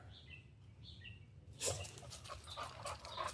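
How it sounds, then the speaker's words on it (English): Dogs in a fenced-in pool area bark in a sudden burst of faint, distant yaps that continue in scattered bursts over a low rumbling background, with no talking. "Because there's dogs there?"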